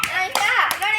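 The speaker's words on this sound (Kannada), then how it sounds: "ಚಪ್ಪಾಳೆ ಹೊಡೀರಿ" Children clap their hands during a kids' game, about four sharp, close claps in quick succession mixed with children's voices talking.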